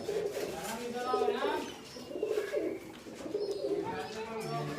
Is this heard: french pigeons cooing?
yes